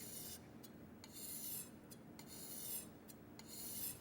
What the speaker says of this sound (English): make a slight arc as you sharpen along the edge of the kisaki